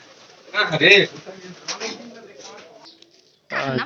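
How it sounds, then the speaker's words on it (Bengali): Pigeons coo in low, throaty bursts, loudest early on, mixed with a person talking nearby. "দেখ কবুতরের কি একটা অবস্থা।"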